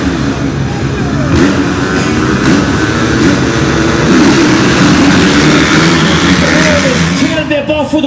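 Arenacross motorcycles roar off the start line at a supercross race in Malartic, a dense, loud, continuous wall of revving engines with a voice faintly beneath.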